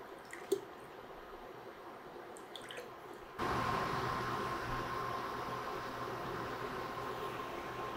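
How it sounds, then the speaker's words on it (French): Water at a full rolling boil in a cooking pot, a steady broadband seething hiss that switches on abruptly partway through after a few faint kitchen clicks and continues evenly and fairly close. "L'eau bout à plein régime"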